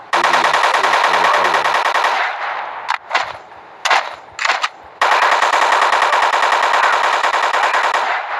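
Rapid automatic gunfire from a zombie shooter video game, loud sustained bursts that break into a few short volleys and pauses before a long continuous stream resumes.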